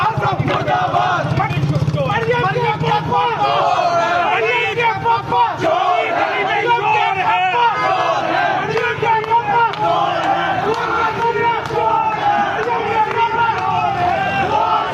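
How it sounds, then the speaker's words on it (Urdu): A large outdoor crowd chants political slogans against Khawaja Asif, loud and continuous, many voices shouting together in rhythmic waves with a steady hubbub throughout. "خواجہ آصف کے خلاف نعرے لگ رہے ہیں"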